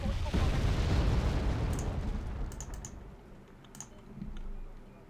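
Enemy artillery barrage in the wargame Wargame: Red Dragon, set in a Second Korean War campaign, shelling infantry: a loud, broad rumbling roar at the start that fades into a lower, distant grumble with a few faint sharp cracks.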